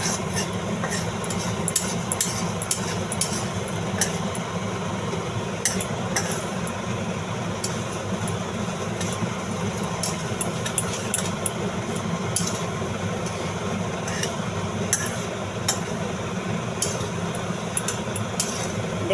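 Mung dal frying in oil in a pan and being stirred, a steady dense sizzle with scattered scrapes and clinks of the spoon against the pan throughout, close and continuous, no talk.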